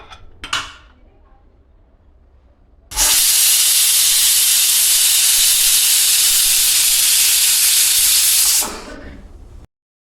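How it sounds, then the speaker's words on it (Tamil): A pressure cooker lid lets out a loud, close whistle of escaping steam while jackfruit biryani cooks on high flame. It is one sustained hissing blast lasting several seconds, preceded by a couple of small metallic knocks. "குக்கர் லிட்டு போட்டு மூடி சரியாக ஒரே விசில் ஹை ஃப்ளேமில் ஒரே விசிலுக்கு குக் பண்ணி எடுத்துக்கலாம்"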